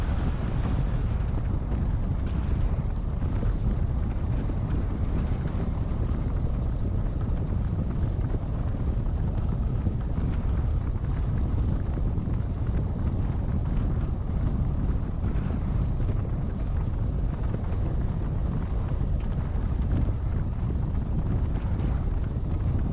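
Steady road noise from a vehicle driving past Himalayan Reservoir near Elk Wallow Campground in Colorado, a constant dense low rumble with wind buffeting the microphone, unchanging for over twenty seconds with no talking.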